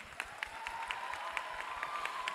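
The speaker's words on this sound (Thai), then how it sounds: "ปรบมือให้น้องๆหน่อยได้ไหมคะ" A crowd applauds at a beauty pageant welcome ceremony with distant, steady clapping and scattered sharper claps. A faint, sustained tone runs underneath throughout.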